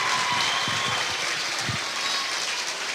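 A high school basketball crowd cheers and applauds in a gym, a loud, steady wash of clapping and shouts holding for a few seconds.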